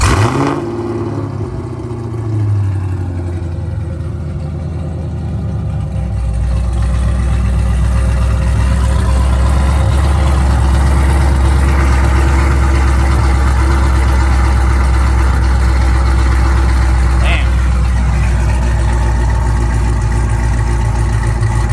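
A Gen 5 Chevrolet Camaro SS V8 fires up from a cold start after a lowering-spring install, a brief quiet lead-in giving way at about six seconds to a loud, steady, deep rumbling idle that holds close and strong to the end, with no talking.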